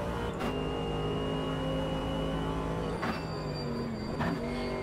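Mercedes-AMG GT3 race car engine in the racing game Automobilista 2, a steady loud roar holding through the whole stretch, with brief sharp blips around shifts or lifts.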